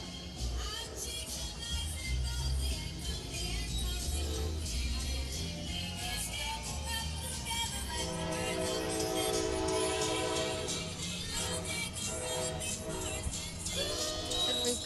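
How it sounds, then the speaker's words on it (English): A train rolls through a Christmas parade with its horn sounding in long, loud blasts over a steady rumble and crowd noise. "And we've got a train coming through."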